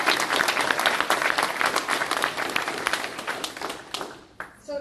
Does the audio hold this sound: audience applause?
yes